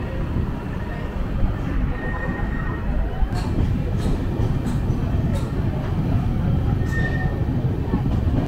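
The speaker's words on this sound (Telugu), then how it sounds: "ట్రైన్ ఇట్లా టర్నింగ్ పోతున్నప్పుడు మస్తు అనిపిస్తుంది" A train on the Araku Valley line rounds a curved track with a steady, close rumble of rolling wheels and a couple of brief, thin squeals from the rails.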